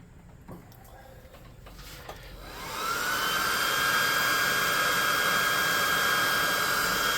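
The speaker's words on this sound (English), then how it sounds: "get your +2 hot air gun to burning" A hot air gun switches on to dry paint on tabletop ruins scenery after a few faint handling knocks. It ramps up to a loud, steady whooshing roar with a high whine that carries on to the end.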